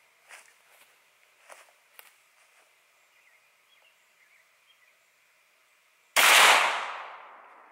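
One Glock 17 shot fired with Remington UMC 115 grain hollow point ammunition, a sharp, loud report with a ringing decay, preceded by several seconds of faint footsteps and small handling clicks.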